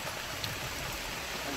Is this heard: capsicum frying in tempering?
no